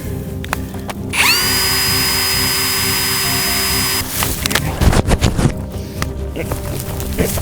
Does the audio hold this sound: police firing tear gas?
no